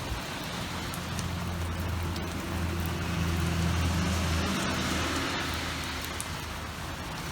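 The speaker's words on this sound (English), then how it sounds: "And it's raining again." Steady rain falls outdoors as a constant, even hiss for the whole stretch, with a low rumble of passing road traffic underneath and no voices.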